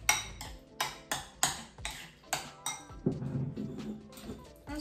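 A utensil mixes avocado salad with sliced onion whites in a bowl, giving a regular run of eight clinking strokes against the bowl followed by a softer, duller stirring sound.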